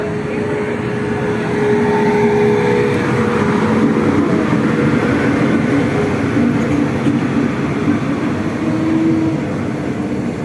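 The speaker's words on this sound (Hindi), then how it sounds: "ये जो ट्रेन है ये पुणे एक्सप्रेस ट्रेन लगी हुई है।" A train at Kanpur Central station, the Pune Express, gives a steady loud rumble with a faint whining tone and low mechanical hum, continuous throughout with no voices.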